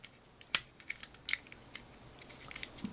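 Plastic parts of a 1/60 PG Unicorn Gundam model kit folding out: several small sharp clicks and snaps close up, two louder ones early, then softer ticks and light handling.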